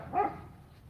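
A single short dog bark rings out once at a moderate distance on a farm, brief and somewhat muffled over a quiet outdoor background.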